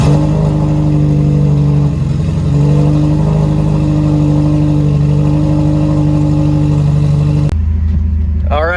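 Car engine fitted with an open downpipe, a loud close idle with a steady droning hum and a brief throttle blip, then cutting to a quieter rising rev near the end as it drives away.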